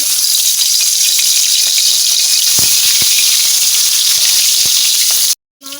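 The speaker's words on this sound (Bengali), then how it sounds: "পাশে কড়াই গরম হয়ে গেছে, মাছটা দিয়ে দিব।" Shing catfish seasoned with salt and turmeric sizzles steadily in a hot kadai, a loud continuous frying hiss with a few sharp pops, then cutting out abruptly near the end.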